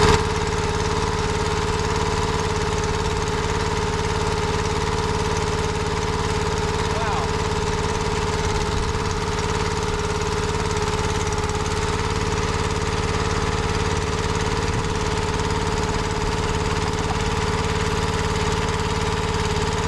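A used Dirty Hand Tools 22-ton log splitter's gas engine idles steadily and loudly close by, a constant droning hum with no breaks.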